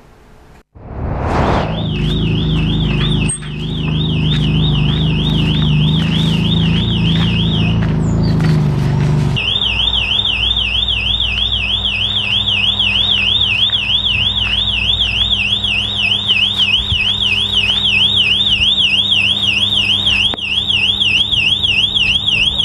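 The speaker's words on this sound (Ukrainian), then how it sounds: "Постійний гуркіт авто та сільгосптехніки, який нерідко супроводжує багатоденний акомпанемент – сирени електричної підстанції." A wailing, wavering siren from an electrical substation near private homes in Kryvyi Rih cycles continuously over a low rumble of traffic and farm machinery. It is loud and persistent, pausing briefly before resuming.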